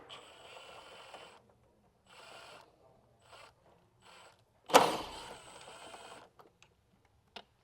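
An impact wrench with a 13 mm socket spins strut tower nuts off a Q60/G37 coupe, sounding in several short separate bursts with a louder rattling burst near the end, fairly close and with no talk.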